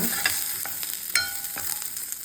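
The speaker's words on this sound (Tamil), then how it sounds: "போட்டுட்டு நல்லா வதக்கிடுங்க" Onions, dried red chillies and curry leaves sauté in a pan, giving a steady close sizzle broken by quick scraping strokes of a stirring spoon.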